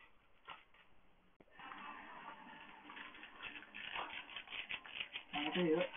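Soft keyboard typing clicks away quietly in irregular bursts, with a voice speaking alongside.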